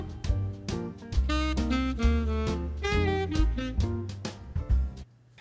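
A Band-in-a-Box generated jazz track plays, a reedy alto saxophone melody gliding over walking bass and light drum hits.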